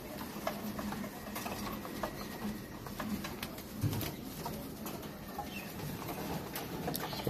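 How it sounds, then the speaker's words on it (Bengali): Giribaz pigeons, about two dozen active birds kept together in a loft, coo in soft overlapping bursts over a busy rustling background, with occasional louder calls and wing flutters close by. "প্রায় 25 পিস কবুতর আছে এখানে,"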